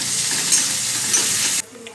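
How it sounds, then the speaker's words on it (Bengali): Sliced onion hits hot oil already tempered with five-spice, dried red chilli and bay leaf, a loud steady frying sizzle that cuts off sharply near the end, leaving faint kitchen noise. "এবার পেঁয়াজটা দিয়ে দিলাম"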